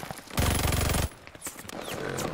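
Loud rapid automatic gunfire in the shooter Call of Duty: Vanguard, one dense burst of about three-quarters of a second, then scattered fainter shots and battle noise.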